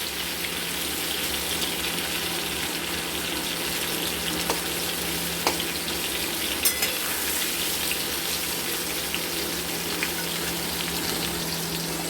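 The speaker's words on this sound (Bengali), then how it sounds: "আমরা সুন্দর করে লাল লাল করে ভেজে নেব।" Pointed gourd (potol) fries in an uncovered pan, a steady, moderately soft sizzle of oil running continuously with a few faint clicks and scrapes, no talking.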